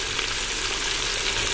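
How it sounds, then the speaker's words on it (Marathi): Spices and Kashmiri red chilli powder fry in hot oil for a chicken dum biryani, giving a steady, dense sizzle that holds even and close throughout, with no talking over it. "आता हे तेलामध्ये चांगलं ते भाजून घेऊ. चांगलं तेल सुटेपर्यंत हे मसाले भाजून घ्यायचे."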